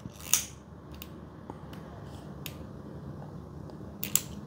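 Close, sharp snips of scissors cutting macramé threads on a tricolor bracelet, with one snip near the start and a double snip near the end over a steady hiss of room noise, and no talking.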